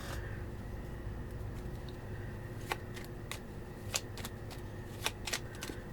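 Quiet, close rustle of tarot cards being shuffled by hand, with a few sharper riffling snaps and flicks in the second half.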